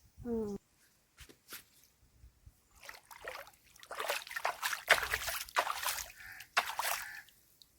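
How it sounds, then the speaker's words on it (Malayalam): Water trickling and splashing through a hole into a paddy field, faint and intermittent, in short bursts with quiet gaps between them. "ഈ ഹോളിലൂടെയാണ് വെള്ളം അങ്ങോട്ട് ഇട്ടുകൊണ്ടിരിക്കുന്നത്"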